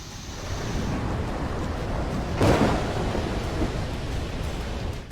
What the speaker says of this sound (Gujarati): માથે ઘનઘોર ઘેરાયેલા વાદળો અંધરાધાર વરસી રહ્યા છે